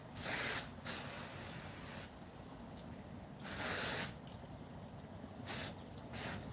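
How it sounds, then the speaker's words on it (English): A spray bottle is spritzed onto a person in five short hissing bursts at uneven intervals, close and fairly loud over a quiet room. "I'm gonna put this here so I can spray myself."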